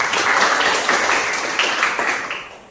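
Students in a mathematics classroom clap for a classmate, a lively burst of mixed applause held for a couple of seconds and then tapering off.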